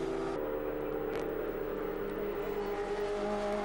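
Racing saloon and sports cars, including a Ford Escort, pass on the Castle Combe circuit with a steady loud engine drone and a rising whine as they go by, with no voices over it.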